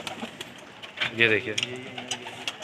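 Pigeons at a keeper's rooftop setup coo in a low, rolling burst close by, with scattered softer calls around it while someone speaks briefly over the birds.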